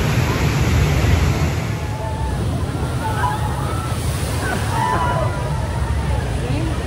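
Water crashes and sloshes continuously in the final splash zone of Infinity Falls, a rapids ride, loud and close, with faint voices and whistling sounds above the churning roar.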